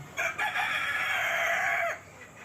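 A rooster crows once, loud and close, with a few soft clucks from laying hens around it on a native-chicken (ayam kampung) farm in Riau.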